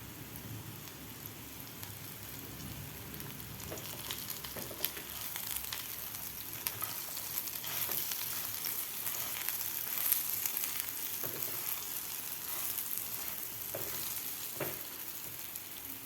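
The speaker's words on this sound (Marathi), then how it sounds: "मी दोन ते तीन मिनिट फ्राय करून घेतलेले आहेत" Moong dal vadi fry in a pan with a steady, dense sizzle like light rain, broken by occasional crackles and stirring clicks, close and even throughout with no voices.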